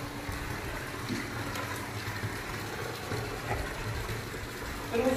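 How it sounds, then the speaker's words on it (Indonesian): A water tap runs as it fills a house's swimming pool, making a continuous moderate gush and splash with no clear breaks. "keran untuk ngisi kolam"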